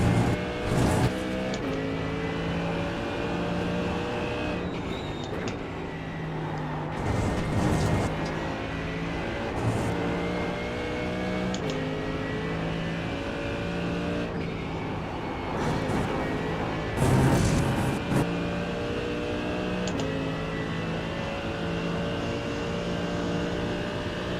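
High-pitched GT3 racing car engines at Le Mans in the iRacing game drone steadily with shifting harmonic whine, rising and falling as gears change, with brief louder swells of passing cars throughout.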